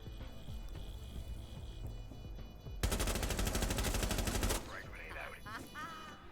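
Rapid automatic gunfire in the Rainbow Six Siege video game, a dense, loud burst of about two seconds that cuts in over a quiet, steady game background and is followed by faint chirping effects.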